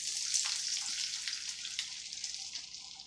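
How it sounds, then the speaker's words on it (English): Beaten eggs pour into a hot pan beside cooking sausage for an Italian breakfast, making a steady broadband hiss, like liquid running and sizzling, that fades slightly over a few seconds with no voices. "And then we pour in the eggs."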